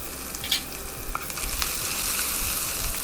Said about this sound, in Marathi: आता आपण हिंग टाकतो आहे आणि यावर कांदा.